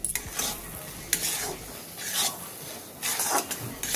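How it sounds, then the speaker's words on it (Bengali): A spoon scrapes and stirs a sabudana laddu mixture with sugar in a pan, in close, uneven scraping strokes with soft sizzling between them. "আমরা এইটা ভালো করে নাড়াচড়া করে মিশিয়ে নেব"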